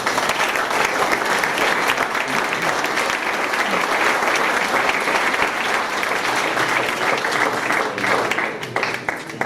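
Sustained audience applause at a mountain rescue team event, dense steady clapping from a crowd lasting throughout without pause.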